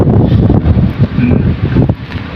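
Strong storm wind by the sea buffets the microphone in loud, rushing gusts, a continuous roaring bluster with no voices.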